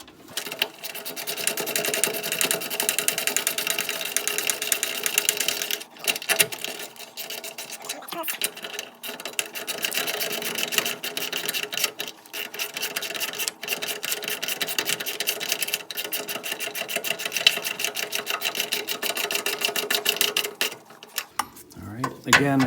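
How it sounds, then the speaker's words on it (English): A flex-head ratchet tightens the rear driveshaft center support bearing on a 2000 Nissan Frontier Crew Cab 4x4, giving a continuous rapid clicking and rasping that runs close and steady for over twenty seconds. "We'll use my favorite ratchet"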